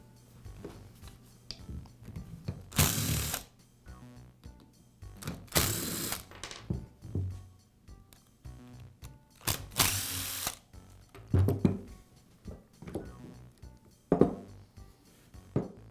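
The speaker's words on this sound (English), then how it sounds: "Now we'll remove the screws that secure the gearbox to the motor assembly." Screws being driven out of the gearbox of a DeWALT shear with a power driver, in three loud whirring bursts amid clicks and handling noises.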